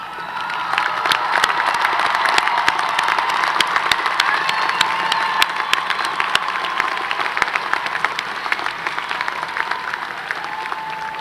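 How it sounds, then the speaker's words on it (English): A large commencement crowd applauds honors graduates, sustained dense clapping mixed with cheers and whoops that fills the hall steadily throughout. "receive our applause"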